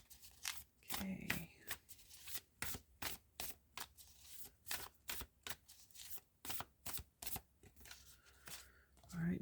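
Angels and ancestors oracle cards are shuffled by hand in a series of quick riffling, flapping bursts with short gaps between them, close up and fairly quiet.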